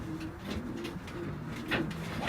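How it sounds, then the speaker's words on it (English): A racing hen pigeon coos repeatedly nearby, soft low throaty calls in a loose rhythm, with a brief chirp-like burst late on. "I'm going to show you one of Sean Hunt's pigeons there"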